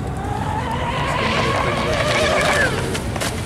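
A radio-controlled hydroplane boat's small engine screams continuously at high revs, its pitch rising and falling as the throttle is blipped, loud and close with a voice faintly underneath.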